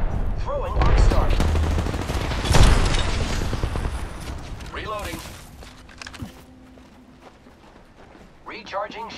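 Loud, close automatic gunfire in a fast Apex Legends Arenas fight, dense bursts over the first few seconds that then thin out into mechanical clicks and shield-recharge sounds, with a player's voice talking throughout.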